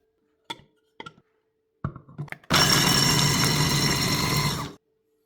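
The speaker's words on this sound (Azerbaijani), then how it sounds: "Qozu blenderdə xırdalayıram." A blender chopping walnuts: a few light knocks and taps, then a loud steady whirring grind for about two seconds before cutting off.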